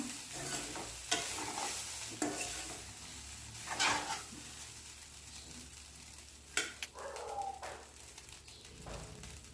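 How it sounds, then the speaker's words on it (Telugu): Carrot rice being stirred in a pan with a spoon, giving intermittent scraping strokes and a low sizzle, close and moderately quiet, with faint bird cooing in the background. "ఉప్పు వేసాం కదా, మళ్ళొకసారి కలబెట్టుకుందాం."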